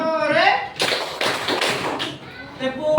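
A classroom of children clap hands together in a tepuk clapping game at an elementary school, loud bursts of claps in rhythmic groups mixed with a voice speaking over them.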